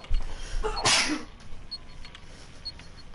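A single loud sneeze, close and abrupt, from a player during a live PS4 game broadcast, followed by faint background game sounds.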